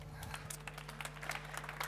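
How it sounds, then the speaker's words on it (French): Scattered audience clapping at a talk on Nikon history, faint and somewhat distant, with a low electrical hum running beneath the claps throughout. "que je vous demande d'applaudir"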